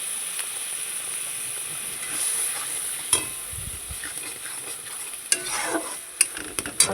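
Masala with garlic and green chilli fries in a pan after a splash of water, as a soft steady sizzle broken by a few sharp clicks and scrapes of stirring toward the end.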